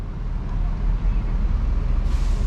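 Buses rumble in a covered bus corridor at the Blok M terminal in Jakarta, a dense, steady low engine drone close by with a brighter hiss rising near the end.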